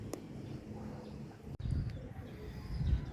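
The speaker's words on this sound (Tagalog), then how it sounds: "Ayan, pa Maynila na yung mga ibon." Racing pigeons coo and call at a pigeon race in Cavite, moderate and fairly steady against a low rumbling background, with a brief dropout midway.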